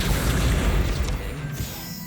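An Incendio fire spell cast in the Hogwarts Legacy video game lands as a loud, booming crash with sharp smashing bursts, then fades to a quieter rumble. No one speaks.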